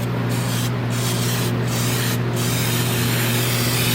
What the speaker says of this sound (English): I would take this Weld-Through Primer and I'll spray the underside of it